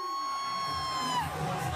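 A nightclub crowd at a Girl Power party night screams and whoops as the DJ arrives, a dense roar of shouting and cheering with a sustained high tone ringing through the room, loud and continuous throughout.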